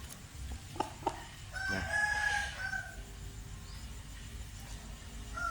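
A rooster crows once, clearly and at moderate distance, in a drawn-out call lasting over a second, amid a few brief knocks and faint outdoor background noise.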